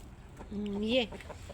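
A single drawn-out call from a hen that has been coughing and unwell rises and bends upward, close and fairly clear over a low background murmur.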